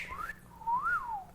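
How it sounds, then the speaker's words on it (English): A single loud human whistle rises, dips, then swoops up and falls in a long wavering melodic line, clear and close with no talk over it. "How do people do it that can whistle so loud like that?"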